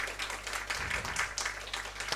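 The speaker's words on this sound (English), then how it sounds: "round of applause, please" Applause at a conference session on legislation to end FGM: a short burst of audience clapping, fairly distant and even, continuing over the whole moment.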